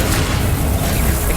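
A loud, low booming burst from a Confringo blasting spell in the Hogwarts Legacy video game, a dense explosive rumble filling the whole short moment with no voices.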